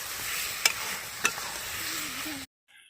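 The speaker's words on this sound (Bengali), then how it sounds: "কচু শাকটা দিয়ে ভালো করে লেড়ে নেবো" Taro leaves and shrimp being stirred in a pan, a close steady sizzle with two sharp utensil knocks against the pan, cutting off abruptly into near silence.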